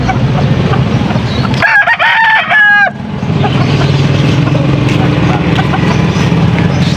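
Young roosters, stags, crowing at a busy Pampanga poultry market, one clear drawn-out crow standing out over a loud bed of crowd noise and other fowl, with people talking throughout.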